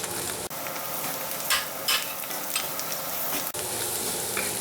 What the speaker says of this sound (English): And then we'll put the chorizo.